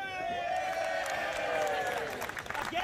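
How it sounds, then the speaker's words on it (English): A wrestling crowd at a Beyond Wrestling show chants in loud unison, the sustained rising and falling voices filling the hall with scattered clapping underneath. "what a chant from this crowd here"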